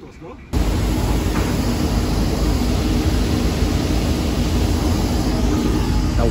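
Steady, loud broadband roar of a passenger airplane cabin during a flight out of Newark toward Israel, starting abruptly after a quieter half-second and holding as a constant engine drone with no talk.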